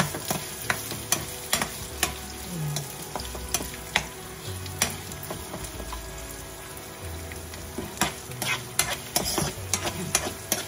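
Chopped onion sizzles in a hot frying pan for a simple chayote and egg dish, with a steady crackling fry broken by repeated sharp scrapes and clinks of a spatula stirring against the pan.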